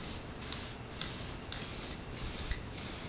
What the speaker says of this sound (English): we're going to spray copper coat on the seals, and hopefully it won't leak